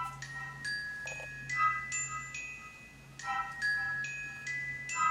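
Bright glockenspiel notes ring out in a sparse, tinkling pattern over a faint, low sustained synth tone meant to feel anxious, quiet and without any voices.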